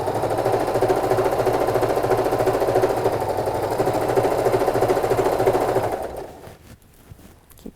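A sewing machine stitches fabric for a sleepover bag in a fast, steady mechanical rattle for about six seconds, then stops, leaving quiet room noise.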